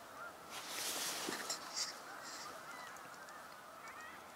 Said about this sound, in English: Where are my geese?